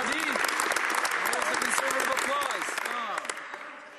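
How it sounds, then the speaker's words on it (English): Audience applause in a parliamentary chamber, a dense wash of clapping that fills the clip and tapers toward the end, with scattered voices calling out over it. "You can applaud"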